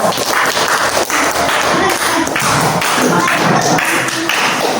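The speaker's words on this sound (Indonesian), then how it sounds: "tepuk tangan dulu untuk kelompok" A classroom group receiving applause, dense close clapping from several people that keeps up loudly and steadily throughout.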